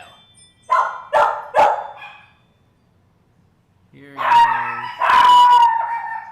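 Dogs kept as family pets bark in three sharp, loud barks, then break into a drawn-out, wavering howl after a pause, with a voice speaking briefly among them.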